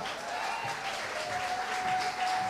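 A crowd at the Miss Haiti 2022 pageant final in Cap-Haïtien applauds a contestant, sustained dense clapping throughout at a fairly even level, loud and continuous with no talking on top.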